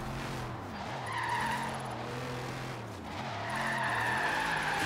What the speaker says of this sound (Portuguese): Pegamos um setor de drift aqui bem legal, hein?